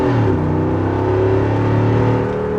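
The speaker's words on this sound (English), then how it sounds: "that is a crazy thing to hear coming out of a Jeep Wrangler" A Jeep Wrangler 392 V8 accelerates on the highway, a loud, deep engine roar heard from the cabin whose pitch climbs and then settles through the gears.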